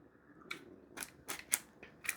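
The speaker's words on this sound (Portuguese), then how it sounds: "Vamos passar o estilete aqui de levinho." A utility knife slices lightly through the sealed wrapping of a DJI Osmo Pocket 3 camera box, giving several short, close scraping cuts in quick succession against a quiet room.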